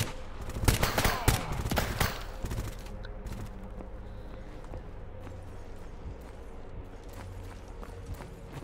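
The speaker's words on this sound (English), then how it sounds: "Is that someone shooting at us?" Gunshots ring out in Stalker GAMMA near Pripyat, a cluster of sharp, loud cracks in the first two seconds before fading into a quiet ambient hum.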